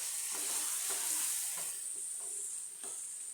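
Masala frying in oil in a pan for a besan sabzi, a steady hissing sizzle with several soft, evenly spaced stirring strokes underneath.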